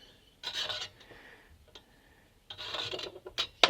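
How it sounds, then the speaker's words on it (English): Metal scriber point scratching a fine marking line, two short raspy strokes separated by a pause, close and fairly quiet, ending with a sharp tick. "I'm going to use a scriber because it's a finer line"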